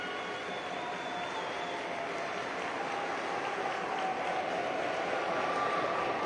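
Spectators at a handball match give a sustained ovation, a steady wash of applause and crowd noise filling the arena at moderate distance, unbroken for several seconds.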